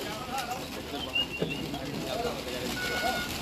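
Racing pigeons in a Lucknow flying match, with faint cooing and soft bird calls over open outdoor ambience and distant voices.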